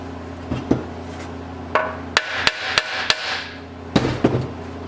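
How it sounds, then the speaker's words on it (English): A hammer taps a metal pulley on an antique Jari underwater weed cutter: about eight sharp, light strikes, several in a quick cluster, close and clear over a low background hum. "So I lightly tapped on this with a hammer."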